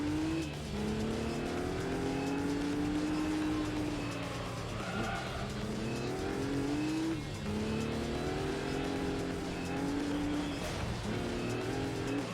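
An AI-driven race car in Gran Turismo 3 howls through a continuous stretch of rising and falling engine revs across repeated gear shifts, with tire squeal mixed in, fairly steady and with no talk over it.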